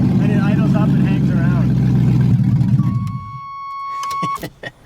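An LS-swapped Chevrolet S10's engine idles up and hangs at a raised speed with no throttle applied, a steady close rumble that fades after a few seconds, followed by a thin whine and a few clicks.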